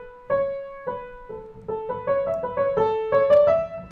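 A cello plays a bright, upbeat major-key melody, a series of clear sustained notes with steady rhythmic bow changes, close and alone.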